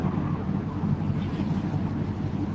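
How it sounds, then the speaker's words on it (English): The container ship MSC Rosa M arrives at Felixstowe, running her engine and bow thrusters, producing a steady, heavy low rumble with gusty wind noise across the microphone throughout. "So I should guess she's using her bow thrusters. She's also got her engine going."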